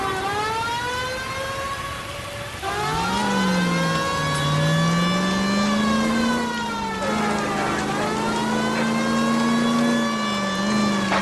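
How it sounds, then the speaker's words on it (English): Car engine roaring steadily in L.A. Noire during a police pursuit, a loud sustained drone that shifts pitch as the vehicle speeds up and slows, with a siren-like wail over it. "That's Kelso's car"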